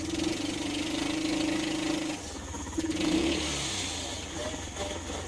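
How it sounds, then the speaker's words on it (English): A small go-kart engine fitted in a vehicle with a four-speed manual transmission revs lightly and settles while the gear is shifted. It sounds quiet and mid-pitched, with a steady hum and a brief rise, and someone talks over it. "then we're gonna give it a little rev"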